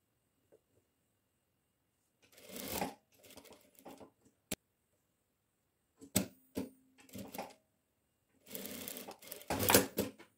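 A sewing machine stitches a chemise dress in several short bursts separated by pauses, close and fairly quiet, with a faint tap between runs.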